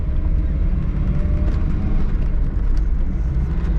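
A 1998 Tofaş Doğan's engine drones steadily from inside the cabin on a mountain road, a continuous low rumble with road noise and no clear gear-change break.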